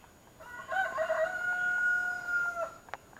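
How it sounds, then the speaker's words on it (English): A rooster in a backyard chicken coop crows one long, clear cock-a-doodle-doo at moderate distance, rising and holding before breaking off, with quiet hiss behind it. "Okay, let's get to the chicken coop."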